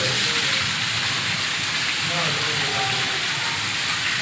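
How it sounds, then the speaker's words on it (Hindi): Heavy rain in Balochistan pours steadily in a dense, hissing wash, with a faint voice murmuring underneath. "बहुत तेज बारिश चल रही है।"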